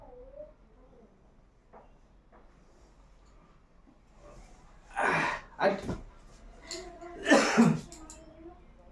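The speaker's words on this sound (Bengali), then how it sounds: "কাশি আসলে দম থাকে না।" A person gives a few harsh, loud coughs and throat-clearing bursts after some quiet breathing and murmuring, sounding close and strained.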